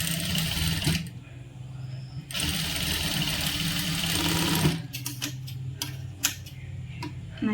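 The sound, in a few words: sewing machine stitching cross piece of churidar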